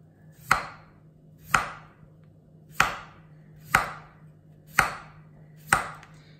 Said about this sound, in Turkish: Patatesleri şöyle ince ince doğrayacağım.